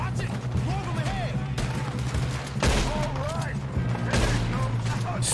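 Gunfire in Red Dead Redemption 2 during a snowy shootout, several sharp, loud shots ringing out at irregular intervals over continuous wind and background noise, with shouted voices in between.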